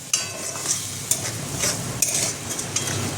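A spatula scrapes and stirs fish in mustard-poppy masala in a sizzling pan, with sharp metallic clinks recurring every half second or so over a steady frying hiss.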